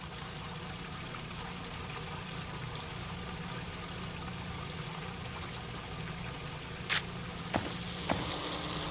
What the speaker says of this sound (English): The faucet is running.